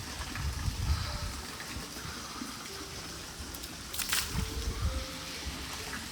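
At Meguro Fudoson temple in Tokyo, water is ladled onto the Mizukake Fudomyo statue in a few separate close splashes and sloshes, with a brief louder pour near the end.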